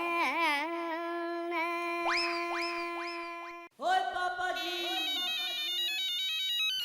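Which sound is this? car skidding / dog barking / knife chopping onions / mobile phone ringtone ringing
mobile phone ringtone ringing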